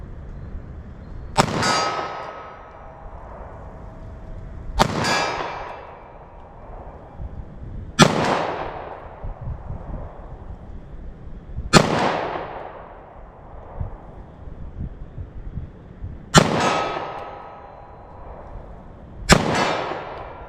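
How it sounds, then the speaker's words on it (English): A short-barrel Sig Sauer pistol fires 9mm rounds slowly at a steel target. Six sharp reports, each followed by a ringing clang, come a few seconds apart. "I'm going to fire off really slow though, and just see if there's a big difference here in the shootability and accuracy of 9mm"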